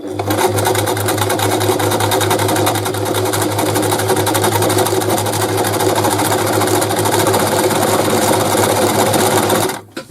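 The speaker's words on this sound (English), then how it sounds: "So I'm on number 9, and this is called an elastic overlock, so let's see how this goes." Brother Boutique 30 sewing machine stitching an elastic overlock, a loud continuous rapid mechanical whir up close for about ten seconds before stopping abruptly.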